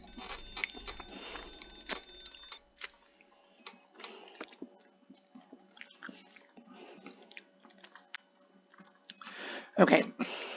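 An alarm clock rings in a Nancy Drew video game: a steady electronic tone for about two and a half seconds, then it stops. Scattered soft clicks and taps follow.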